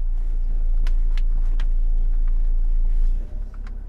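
A 2016 Toyota Hilux Revo Double Cab 2.4 pickup pulls away and drives, heard from inside as a steady low engine and road rumble with a few faint clicks, easing off near the end.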